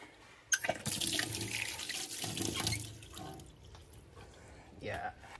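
Water runs from a tap into a wash sink at a campsite, a faint, uneven splashing flow heard while people talk nearby.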